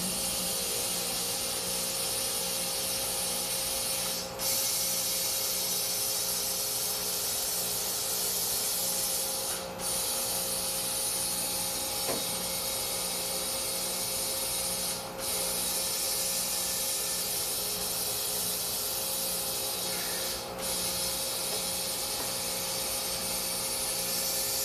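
Air hisses steadily as a tire bead is seated on a Corvette Z06 wheel mounted on a tire changer, a continuous broad rushing sound broken by brief regular dips every few seconds, with no talking.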